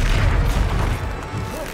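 Confringo explosion spell in the Hogwarts Legacy video game: a loud, low booming blast that rolls on for under two seconds, with game noise rumbling underneath.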